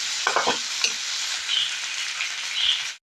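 Chopped tomatoes going into a pan of sautéing fern leaves, a dense steady sizzle with a few stirring knocks at the start, close and continuous until it cuts off.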